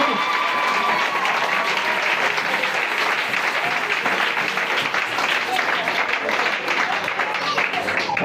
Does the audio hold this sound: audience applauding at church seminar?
yes